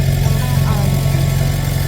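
Old Farmall tractor running on a farm, a loud steady engine drone at close range with even idle pulsing throughout.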